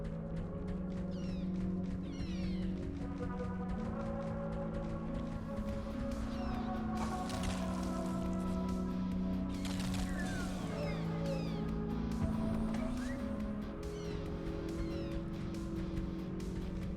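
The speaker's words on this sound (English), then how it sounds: "Meow." A cat meows repeatedly in the video game Ghost Song, short rising calls spaced across the stretch over a constant droning ambience.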